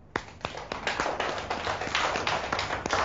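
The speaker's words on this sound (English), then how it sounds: "Give yourselves a clap." Young children clapping in a classroom, a scattered run of sharp, uneven claps from small hands building into a loose patter, fairly close but modest in volume.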